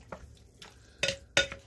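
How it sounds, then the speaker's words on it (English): Food is mixed in a bowl at home, with a few separate clinks and scrapes of the utensil against the bowl, close and fairly sharp, spaced unevenly across a short moment. "Let's give that a mix."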